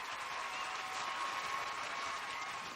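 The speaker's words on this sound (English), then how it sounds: "a sold-out arena is ready to cheer every Browning and Bogart move" A sold-out arena crowd applauds a figure skater, dense steady clapping filling the space at a constant moderate level with no gaps.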